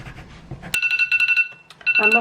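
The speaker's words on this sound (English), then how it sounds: "And my phone goes off." A mobile phone goes off with a rapid electronic trill of repeated tonal beeps in two bursts, fairly loud and near, after a soft earlier stretch and before a voice comes in.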